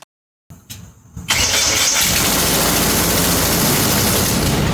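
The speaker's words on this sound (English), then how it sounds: "let's push the airplane out and give it a test run with the new MTH on the engine" A small airplane engine, fitted with a new MTH, sputters, cranks, then catches and settles into a loud, steady roar close by.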